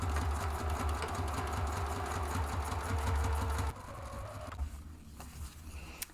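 A sewing machine stitches a seam joining two fabric panels for a zippered bag, running in a steady rapid rhythm for several seconds before stopping, followed by quieter handling noises.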